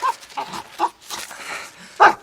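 A cartoon dog barks several times in short, close, loud yelps with a whimpering quality, spaced irregularly with brief pauses.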